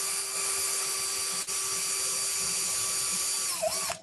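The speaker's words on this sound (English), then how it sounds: "So I've got this, and I'm going to put a couple holes in just freehand." A small electric drill bores freehand holes into a dried twig cut about three months earlier, whining steadily and loudly at close range, then briefly dipping in pitch near the end as the bit bites.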